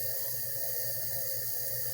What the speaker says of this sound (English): start filling it. But believe me, that's a lot of water